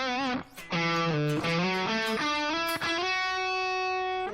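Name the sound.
electric guitar lead tone with reverb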